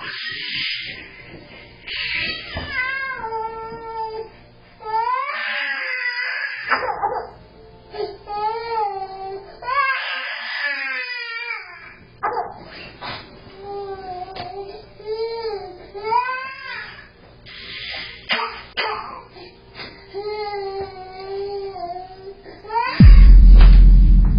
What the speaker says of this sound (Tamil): குழந்தை படுத்திருக்கிற பெட்ரூம்ல இருந்து பயங்கரமா அழுக சத்தம் வர்றத கவனிக்கிறாங்க